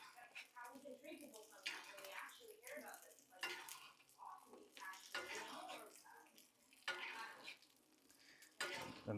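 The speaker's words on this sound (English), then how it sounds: "cook this salmon on the top and seal it up" Salmon fries in a pan with a soft sizzle, broken by clinks and scrapes of a utensil against the pan. The sounds are faint and intermittent.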